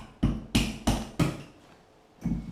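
Four loud, evenly spaced hammer blows ring out close by during basement clean-up and kitchen tile demolition, followed by a pause and a fifth strike, each with a short metallic decay.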